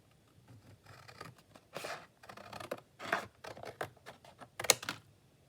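Scissors snipping paper cut from a junk journal master board, a series of short crisp cuts and rustles in an uneven rhythm, close by and fairly quiet, with no talking.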